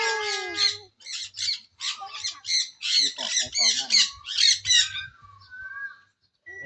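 Loud, harsh bird squawks repeat in rapid bursts, close by at a zoo in Mukdahan, Thailand, with a person speaking quietly in Thai underneath at moments.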